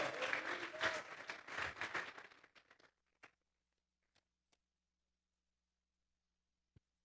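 A church congregation claps in praise during a Spanish-language sermon, a dense burst of applause that fades out after about two seconds, followed by a few isolated soft knocks and taps in near silence.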